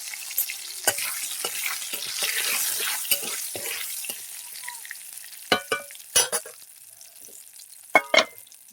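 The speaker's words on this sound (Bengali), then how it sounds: "ওই তেলে আমি দিয়ে দেবো তেল দুটো তেজপাতা দিয়ে দেবো" Two bay leaves dropped into hot oil left from frying cauliflower, a soft crackling sizzle that fades out, followed by a few sharp clinks and taps of utensils against the pan, close by.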